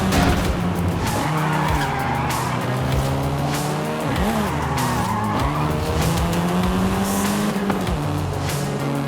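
Volkswagen Golf R driving in Forza Horizon 5, its engine droning steadily with pitch shifts between gears while tires squeal and skid repeatedly, loud and close throughout with no speech.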